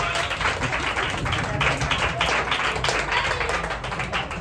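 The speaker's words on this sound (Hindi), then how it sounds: "जोरदार ताली।" Children in a Hindi kids' group action song session clap loudly together, a dense, continuous burst of applause filling the whole stretch without pauses.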